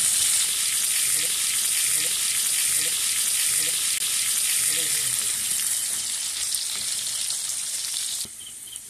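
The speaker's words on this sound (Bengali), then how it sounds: "আলুগুলো আমি এপাশ ওপাশ করে ভালো করে ভেজে নেব।" Potato pieces seasoned with turmeric and salt sizzle loudly in hot oil while being turned for a tilapia curry, a dense, steady frying hiss with faint stirring knocks that cuts off abruptly near the end.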